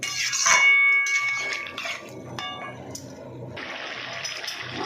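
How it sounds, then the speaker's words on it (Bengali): Water poured into a hot cooking pan gives a loud hissing splash that settles into a steady bubbling sizzle, close by and with no talking. "একটু জল দিয়ে দিলাম।"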